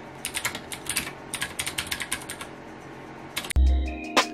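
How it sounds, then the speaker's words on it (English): Keystrokes on a Ducky One 2 Mini mechanical keyboard with Cherry MX Blue switches: a brisk run of sharp clicky taps close up, followed by a louder mechanical clunk and hum at the end. "The switches are Cherry MX Blue, so they are pretty noisy and give off that classic keyboard feel that I remember growing up."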